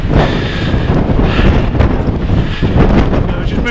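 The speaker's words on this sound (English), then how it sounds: "Still really windy." Strong wind roars and buffets the microphone continuously, a loud rushing blast with no break.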